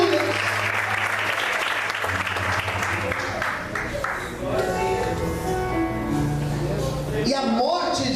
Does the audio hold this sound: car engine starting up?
no